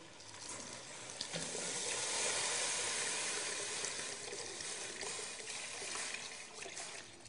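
Water being poured into a pot of Moroccan harira soup, a steady, moderately loud rushing pour that lasts nearly the whole stretch with no talking.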